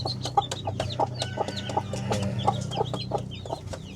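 A hungry mother hen clucks repeatedly in short rhythmic bursts, calling her chicks, which peep high and thin around her, close by with a low hum underneath.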